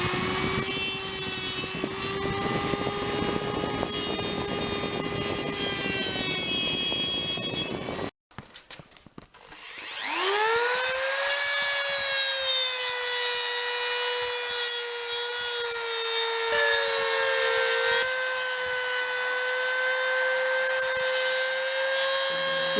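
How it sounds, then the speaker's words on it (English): An inexpensive Dremel-style rotary tool with a cutting disc grinds through the steel blade of an old putty knife, shaping a knife; a steady high whine runs, breaks off for about a second, then resumes and shifts pitch as the cut continues. "I will use my trusty old fake Dremel to cut the rough shape out"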